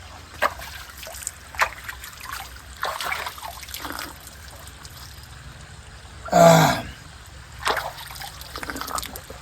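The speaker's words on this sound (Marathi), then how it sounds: "आता पाणी पिऊन बघणार आहे" Drinking water trickles and splashes in a short pour amid faint background noise and soft scattered sounds; a brief louder gush stands out midway.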